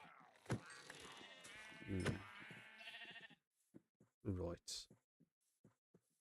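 A sheep in a blocky building video game gives a few short bleats, after a stretch of quiet talk and game sounds, then falls mostly silent with faint clicks.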